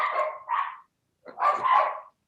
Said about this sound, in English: there's dogs barking everywhere here